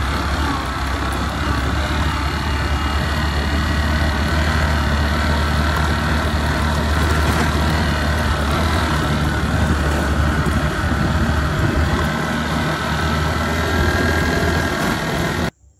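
A motorcycle engine idles steadily up close, a low continuous rumble with constant vibration that holds for about fifteen seconds and then cuts off abruptly.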